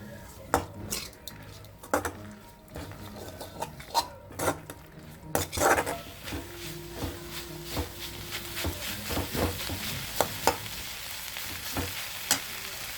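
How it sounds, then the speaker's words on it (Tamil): A spoon scrapes and clinks against a pan in irregular strokes as grated coconut is stirred, while it sizzles softly underneath, close and moderately loud. "தேங்காயை போட்டு நல்லா கிளறி விட்டணும்."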